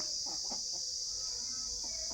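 A Bhimavaram rooster clucks a few times in short, low bursts, fairly close, over a steady high-pitched background hiss.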